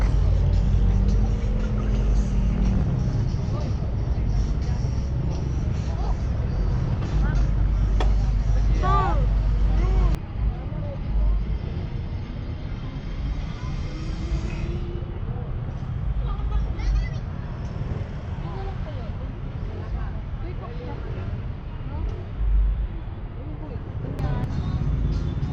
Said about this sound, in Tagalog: Grabe ang traffic.